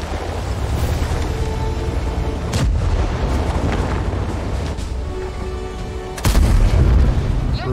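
Tank cannon fire in World of Tanks, two heavy booming shots several seconds apart, loud and close over a constant rumbling engine and wind-like background, with no talking.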